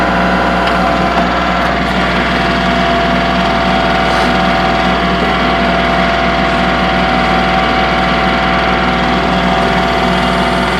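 A 2023 Kubota L3902HST tractor engine runs steadily throughout while the BH77 backhoe attachment is operated, a loud continuous drone with a constant low rumble and faint mechanical whine, no speech.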